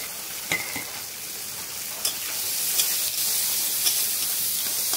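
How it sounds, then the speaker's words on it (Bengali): Chopped onion frying in mustard oil for a prawn dum dish makes a steady, close crackling sizzle that grows slightly louder, with a few sharp spatula taps against the pan. "পেঁয়াজ কুচিটা দিয়ে ভালো করে একটু ভেজে নিতে হবে লাল লাল করে।"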